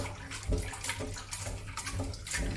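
Seitan dough, a wheat flour dough, being squeezed and rinsed in a basin of water, with steady sloshing and splashing close by and soft squelching pulses, no voices.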